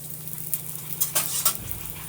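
A methi paratha roasts in oil on a hot pan with a soft, steady sizzle, broken by a few quiet taps and light crackles close by.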